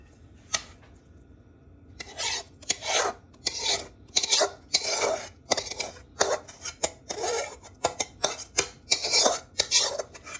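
Appam batter with salt and yeast mixed in is stirred in a vessel, giving a run of close, rasping scrapes in quick irregular strokes after a brief pause at the start, with no talking.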